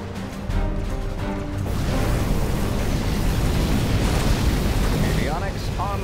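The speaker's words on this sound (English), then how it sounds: "Particle cannon activated." A particle cannon fires in the United Faction game, a heavy booming blast that swells into a sustained rumbling roar, loud and close, with game voices in the background.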